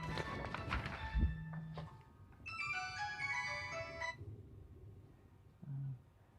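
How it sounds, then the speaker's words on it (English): A mobile phone ringtone plays a bright melodic pattern for about two seconds, set against a low room hum and a few soft thumps and bumps from a home electronics bench. "Oh, my phone, hang on, I'll have to go."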